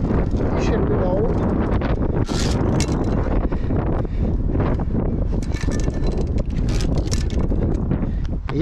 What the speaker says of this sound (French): Il y a toujours du vent.